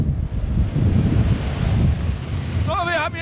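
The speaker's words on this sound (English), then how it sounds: "Meteorologists refer to wind forces of or beyond this speed as stormy winds." Strong stormy wind of around 63 km/h roars and buffets a microphone outdoors during a test of an automatic ED 100 door closer, loud and continuous with gusty low rumbling, ending in a brief whistling tone.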